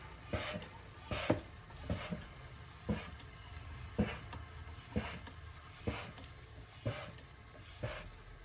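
Old engine oil being pumped out of an Audi makes a regular series of about ten short strokes, roughly one per second, each a brief wet gurgle over a steady low hiss.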